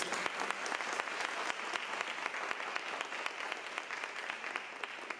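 Listeners at a psychoanalysis talk in a library applaud warmly, a soft, continuous patter of many hands with a few distinct nearby claps standing out, steady and unbroken throughout.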